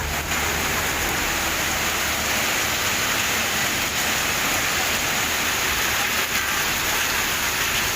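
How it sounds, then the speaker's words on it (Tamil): Heavy rain pouring over the Kumbakonam area of Thanjavur district, Tamil Nadu: a steady, dense hiss of falling water that stays even and unbroken throughout, with no voices. "தஞ்சாவூர் மாவட்டம் கும்பகோணம் மற்றும் அதன் சுற்றுவட்டார பகுதிகளில் கனமழை பெய்தது."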